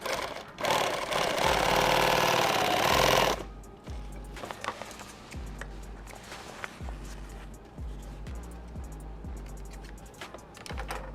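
Sewing machine stitching a kit bag, starting with a loud burst of continuous running, then switching to slower intermittent stitching with evenly spaced mechanical thumps, close by.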